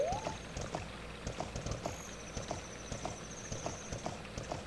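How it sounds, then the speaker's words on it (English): A horse's hooves clip-clop in rhythmic steps in the video game The Legend of Zelda: Ocarina of Time, quiet and evenly paced, with a brief synthetic chime and a high game tone alongside. "always back your horse into the spot"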